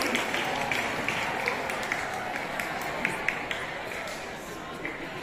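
Students applaud a student council (OSIS) chair candidate after her vision and mission presentation, a fairly faint, scattered clapping that carries on steadily with distinct claps poking through, heard with some room noise.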